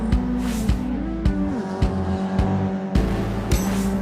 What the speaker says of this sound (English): These go-karts can go up to 30 miles per hour, and they do have dual go-karts and single go-karts.